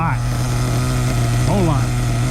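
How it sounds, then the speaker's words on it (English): A newly built MP10T kit engine idles slightly roughly, making a steady, low droning hum throughout while someone talks over it nearby. "Idling okay, a little rough."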